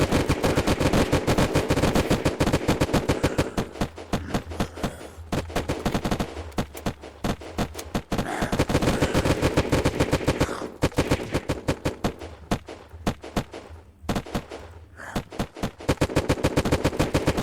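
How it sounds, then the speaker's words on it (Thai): Rapid automatic gunfire rattles through the zombie-wave event in the survival game Unturned, loud and nearly continuous bursts with brief pauses, no speech over it. "เสียงปืนเสียงปืนเสียงปืนโคตรดังเล"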